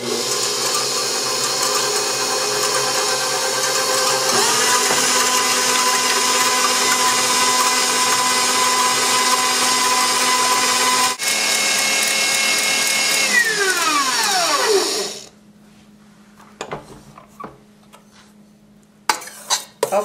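An electric mixer whips egg whites for a tiramisu, a loud steady motor whir with beaters rattling in the bowl, its pitch sliding down as it switches off near the end, followed by faint clinks.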